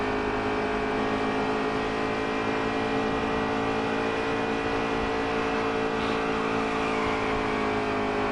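A race car engine in the NASCAR Heat 3 video game drones loudly and steadily throughout, holding a sustained high rev with faint rising and falling pitch and no voices over it.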